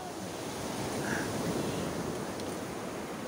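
Strong sea waves wash against the shore in a steady, broad surf roar with wind noise, continuous and moderately loud with no talk.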